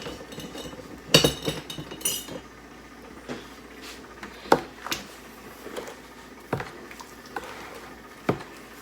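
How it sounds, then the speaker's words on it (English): A metal spoon stirs homemade strawberry jam in a kitchen, making scattered clinks and taps against the container, a few sharper knocks standing out over a quiet background. "get my spoon and mix this up"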